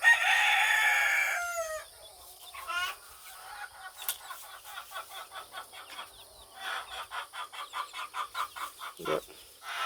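Free-ranging backyard chickens, including Australorp Turken crosses, cluck in quick repeated bursts at close range, with a rooster crowing loudly at the start and scattered squawks; no talk.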